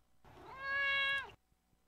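A single drawn-out cat meow from the Thurston Waffles meme, rising then held steady with a strong harmonic tone for about a second, loud and close, alone with no talk.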